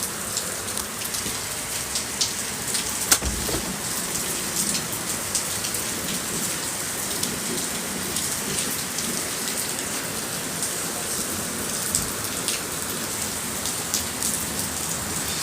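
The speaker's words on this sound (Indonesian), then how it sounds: "Di luar hujan lagi." Steady rain pours down outside in a stormy downpour at Park Serpong, a dense, even hiss of drops on surfaces throughout, with a dull thump near the start that may be distant thunder.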